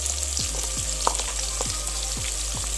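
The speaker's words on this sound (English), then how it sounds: "I am adding 2 big onions" Sliced onions fry in oil for mushroom biryani, giving a constant close sizzle with a few soft stirring taps.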